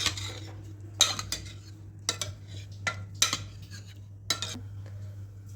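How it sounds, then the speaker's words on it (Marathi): A spoon stirs cooked dal in a metal pot, giving sharp scraping clinks every second or so over a low steady hum, close and fairly quiet. "चांगल्या प्रकारे आपण मिक्स करूया. सर्व एकजीव करून घेऊया."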